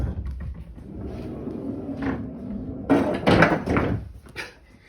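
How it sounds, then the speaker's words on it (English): Off-track sliding closet doors in a house being shifted and bumped, giving a few loud clattering thunks and scrapes near the mic after quieter rustling. "I like the closet doors. Oh, but they're off track."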